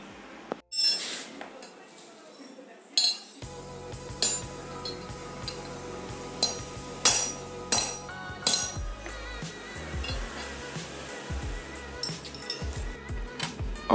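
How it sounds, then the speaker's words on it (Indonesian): A bent Pulsar 220 motorcycle side stand is struck with a hammer on a steel vise, giving a series of sharp, ringing metallic clanks at irregular intervals, fairly close and loud over a low background hum. "entah sepertinya dipukul di atas besi ragum"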